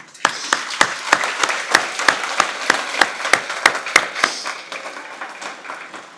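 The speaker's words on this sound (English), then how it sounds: "Give yourselves a round of applause" At a Navy medical command change-of-command ceremony, sharp, evenly spaced claps ring out in a steady rhythm, loud and close, then thin out and fade near the end.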